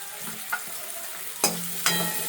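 Vegetables for chow mein sizzling in hot oil, a steady close frying hiss broken by a few sharp scrapes and clatters as they are tossed and stirred in the pan.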